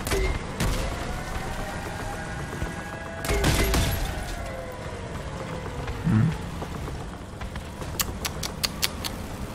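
Vehicles trade fire in the video game Crossout: sharp gunshot bursts and rapid volleys crackle over a steady engine drone, with a heavy blast near the middle and a quick string of shots toward the end.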